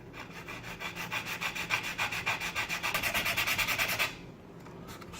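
Sanding a mandolin fretboard by hand with 80 grit sandpaper, a steady run of rapid rhythmic rasping strokes, close and fairly loud, stopping abruptly near the end.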